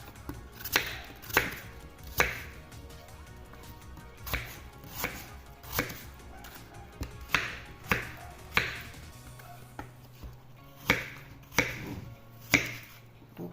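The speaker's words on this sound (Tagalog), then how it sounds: "ngayon, hihiwain naman natin para mailuto na natin" Repeated knife chops slicing apples on a cutting board, about one sharp stroke per second, near and distinct over a quiet background.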